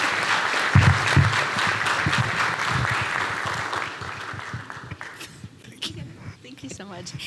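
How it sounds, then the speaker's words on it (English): Audience at a Weslaco State of the City event applauds, a loud, dense burst of clapping that gradually thins and fades, with scattered voices and a speaker talking over it. "if we can get another round of applause for Mr. Valise"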